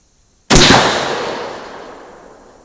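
A single sharp rifle shot from a Bear Creek Arsenal 5.56 bolt-action AR15 with an Aero Precision barrel, fired at a range: one loud, close crack that rings out and fades slowly over about two seconds.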